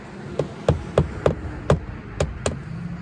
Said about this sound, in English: Don't hammer it all the way in.